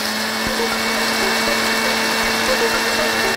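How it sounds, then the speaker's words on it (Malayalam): A mixer grinder jar pulverises roasted horse gram with a loud, steady motor whine and a gritty grinding rush that stays constant and close throughout, with no pauses. "ഇനി നമുക്ക് ഒരു മിക്സിയുടെ ജാറിലിട്ടിട്ട് ഇതിനെ നല്ലപോലെ പൊടിച്ചെടുക്കാം."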